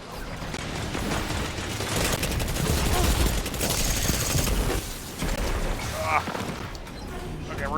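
Rapid gunfire in Destiny 2, dense bursts of shots layered over game effects and voices, continuous and loud throughout with a few sharper cracks near the end.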